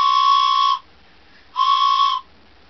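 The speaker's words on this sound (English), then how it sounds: "It's a train whistle" Two clear blasts of a train whistle, each under a second, separated by a short pause, loud against a quiet background.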